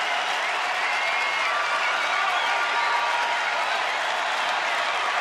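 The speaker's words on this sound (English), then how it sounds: "Jeff Morgan imploring them to make noise, and they are responding" Baseball crowd at a Texas ballpark cheering and applauding as the home side urges it on, a dense, steady roar of claps and voices filling the whole stretch without a break.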